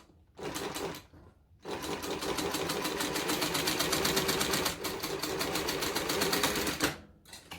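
Sewing machine stitching a large fabric bag: rapid mechanical chattering runs in bursts, a short run, a pause, then a long sustained run with a brief dip, close and fairly loud, no voices.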